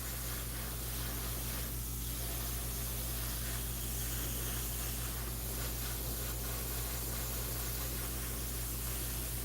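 An airbrush sprays paint in light build-up passes, making a soft, steady hiss that runs unbroken and fairly faint for the whole stretch, with no talking.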